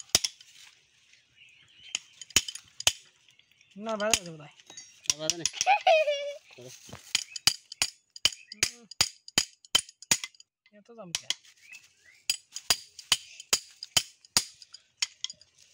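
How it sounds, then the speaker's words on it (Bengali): Metal parts clink and tap sharply and irregularly while the nozzle is changed on a City 4HP shallow-water pump engine, with brief voices in between. "দেখুন সিটি চারের নজেল পাল্টানো হচ্ছে"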